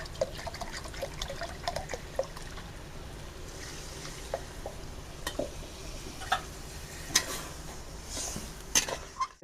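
Water poured into a pan of soybean chunks and egg curry cooked down in gravy, a soft steady trickle and dribble with scattered light ticks and clinks, close but quiet.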